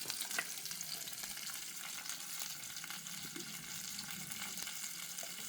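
Faint, steady frying sizzle of okra in a pan, with a few soft stirring clicks, quiet and continuous without voices.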